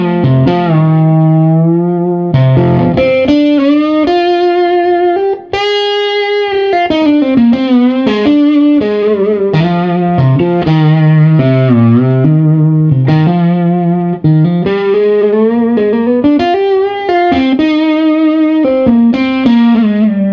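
A distorted electric guitar plays a continuous, sustained line with whammy bar pitch bends and gliding notes, loud and alone, with a thick effects-laden tone.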